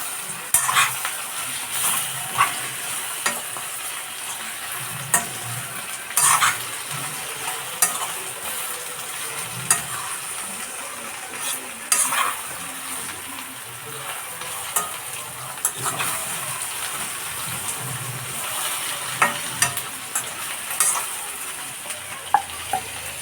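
Bitter gourd curry fries in oil in a pan, with a constant crackling sizzle broken by repeated scrapes and clinks of a spoon stirring against metal, close up and with no voices.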